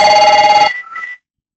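Telephone ringing indoors, loud and close: one sustained electronic ring that cuts off, followed by a short, fainter trailing chirp.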